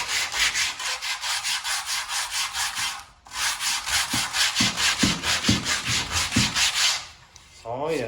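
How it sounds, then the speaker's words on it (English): Rhythmic back-and-forth strokes of new sandpaper rub across a new wooden window sash, close and steady, pausing briefly before resuming in shorter, heavier passes. "So I'm gonna sand it down to it, okay? Won't take long, it's new sandpaper."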